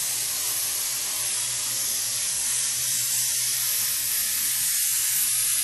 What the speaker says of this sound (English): we're just going to begin by just spraying in some background color very lightly, which is going to outline our skull